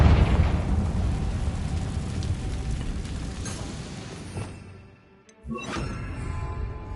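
A fiery spell blast in the Hogwarts Legacy game: a loud booming explosion that rumbles and roars, fades to near silence, then bursts again with a second sharp crackling impact.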